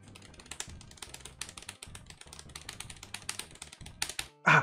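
Rapid computer keyboard typing during a gaming stream, dense clattering keystrokes in quick bursts with brief pauses, close and fairly loud, ending in a sharper louder burst of clacks.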